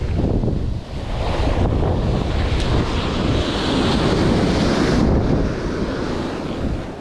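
Strong wind buffeting the microphone at a beach during surf fishing near a sandbar, a loud continuous roar with surf wash underneath and no voices.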